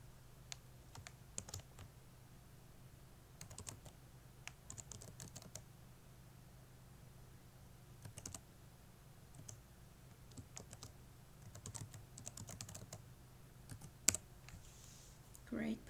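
Password keys tapped on a computer keyboard running Windows 7, with scattered quiet clicks arriving in short bursts and pauses over a low steady hum, fairly faint and close.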